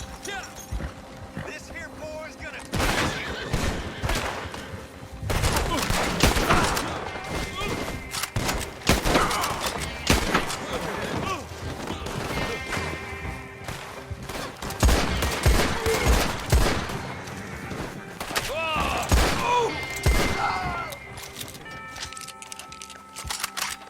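Rapid rifle and pistol gunfire crackles through an ambush in Red Dead Online, dense volleys of shots near and far with horse hooves and occasional voices mixed in.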